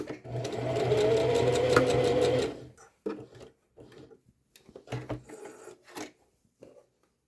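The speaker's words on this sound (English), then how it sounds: "Since this is the right side, I'm just going to sew straight down." A sewing machine runs a straight seam on pajama pants in a steady whir lasting a couple of seconds, followed by short bursts, fabric handling and clicks.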